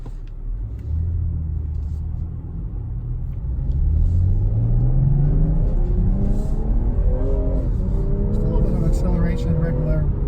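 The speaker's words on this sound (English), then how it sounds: "Acceleration regular mode, and it's very smooth, very pleasant, very instantaneous." A 2020 BMW M340i accelerates smoothly in regular driving mode, its engine note rising steadily through the gears from a low rumble to a higher drone, heard from inside the cabin, loud and continuous.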